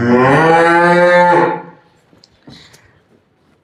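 A single loud, close moo lasting over a second from a cow at a livestock sale, followed by quiet rustling and faint clatter.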